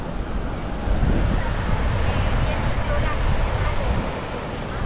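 Sea waves wash ashore at Bla Wae beach in Tak Bai, where a stone-filled seaside seating area has been built: a continuous broadband roar of surf mixed with wind buffeting the microphone, close and steady.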